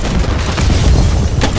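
A sniper rifle fires in a first-person shooter game, a loud, boomy, muffled blast with dense low rumble, heard up close in a short burst.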